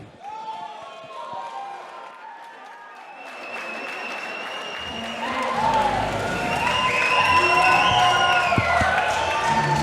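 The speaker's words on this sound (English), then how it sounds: "Dwayne Thaggard got a lot of support in the building here tonight" An indoor combat-sports crowd applauds and cheers as a fighter is introduced from the red corner, clapping swelling into louder sustained cheering, with a ring announcer's voice heard early on.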